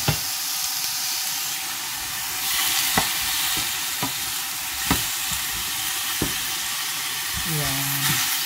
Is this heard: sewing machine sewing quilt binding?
no